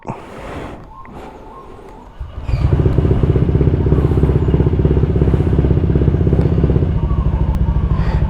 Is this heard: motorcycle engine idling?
yes